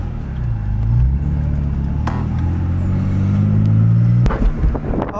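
A BMW fitted with BC coilovers drives along with tires rubbing, a close, loud engine rumble with rising and falling revs and a couple of sharp scraping knocks near the end.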